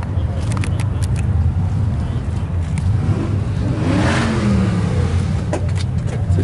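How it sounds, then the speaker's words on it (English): A 1980 Chevrolet C10 Silverado square body pickup engine revs in a mid-pitched rising surge, close and fairly loud, with a voice talking over part of it. "Here's another square body Chevrolet."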